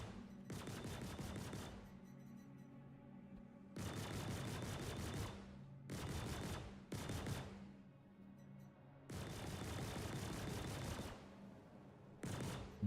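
Gunfire aimed at a distant ship in the space game Star Citizen: long loud bursts of sustained automatic fire, broken by short pauses, with no talking.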